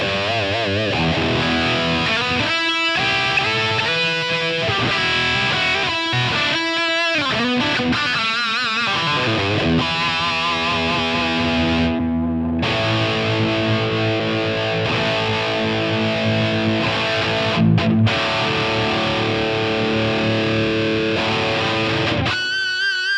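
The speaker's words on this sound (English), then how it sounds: "engage this boost, let's see what happens when we go all the way to 10" High-gain electric guitar through a Line 6 Helix Oblivion amp model with a boost engaged and gain at 10, heavily distorted riffs and chugs followed by long sustained chords, loud and close throughout with no talking.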